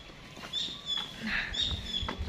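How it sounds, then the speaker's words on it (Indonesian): Monkeys chatter and squeal in a Bali holiday setting, with several short high-pitched calls and clicks spread over a couple of seconds amid faint background noise, no one speaking. "seperti kalian dengarkan, ada suara-suara monyet-monyetnya"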